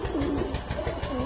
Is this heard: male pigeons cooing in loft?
yes